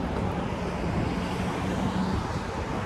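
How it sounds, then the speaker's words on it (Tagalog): Wind blows steadily outdoors, a constant broadband rushing and buffeting against the microphone that fills the whole short stretch with no voices over it. "Mahangin na"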